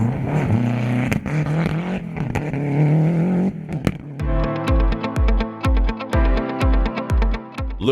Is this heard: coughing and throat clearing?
no